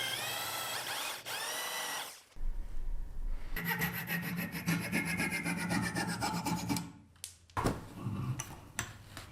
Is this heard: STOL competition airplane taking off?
no